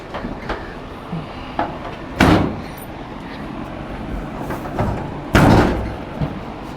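A VW Beetle door with stock hinges being fitted into place, giving two loud metallic thuds a few seconds apart, with smaller knocks and clunks of handling in between.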